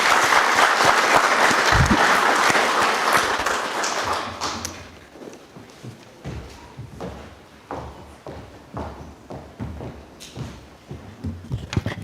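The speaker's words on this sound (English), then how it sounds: "We can clap for the CS" Audience applause for a Cabinet Secretary at a formal land justice event in Nairobi: loud clapping for about four seconds, then dying away into scattered taps, thumps and footsteps.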